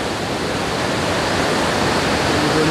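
Spring water at Timoga Springs in Iligan City rushes steadily and loudly, a continuous broadband splashing flow close by, pouring out without pause.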